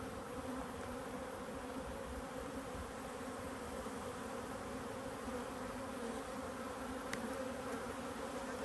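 Honeybees drone steadily at an open hive during an inspection for hive health and swarming signs, a dense, even hum holding at a moderate level throughout with no voices.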